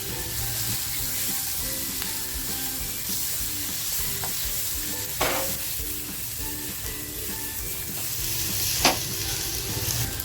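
Tomatoes frying in reused oil for a homemade Chinese-style prawn dish, a steady loud sizzle with stirring scrapes and a couple of sharp utensil knocks, no voices.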